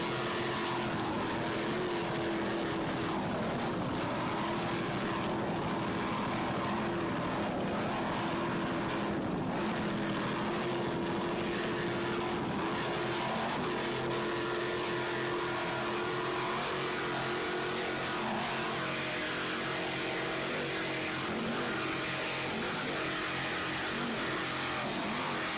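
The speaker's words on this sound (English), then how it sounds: "Just listen to those two 850 horsepower Chevy inboards." Two 850 hp Chevy inboard engines power a racing powerboat through rough water at an offshore race, making a continuous loud engine roar that shifts slightly in pitch and holds steady for the whole stretch.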